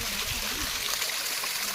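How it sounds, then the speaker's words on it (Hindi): Water of a hillside mountain stream near a village field, running at reduced flow, a constant close rushing and gurgling with no voices. "अब बाकी आजकल गदेरे में भी पानी कम हो चुका है।"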